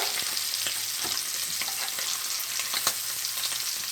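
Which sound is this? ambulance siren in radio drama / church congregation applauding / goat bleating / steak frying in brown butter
steak frying in brown butter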